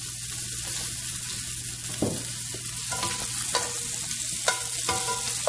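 Sausage browning in a pan sizzles and crackles in a steady bed of frying noise. A few sharp pops and scrapes sound close by, and nobody speaks.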